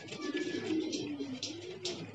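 A short stretch of continuous low cooing from domestic pigeons coming back from their first flight, close and moderately loud, with faint higher chirps above.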